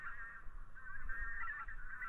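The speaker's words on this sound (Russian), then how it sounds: "Вон опять гусь летит." A lone wild goose honks in flight over hunting grounds in Yakutia, a continuous series of distant, fairly faint nasal calls over low outdoor rumble.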